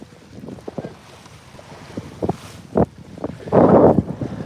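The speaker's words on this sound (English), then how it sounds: "that was us clumsily coming about" A sailboat on the Great Lakes clumsily coming about in the wind, with scattered knocks and rattles of rigging and gear, wind buffeting the microphone, and a louder rushing gust near the end.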